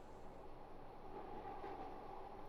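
Glasgow Subway train in a train simulator game runs at speed, a steady low rumble and rushing wheel noise, faint and continuous with no voices.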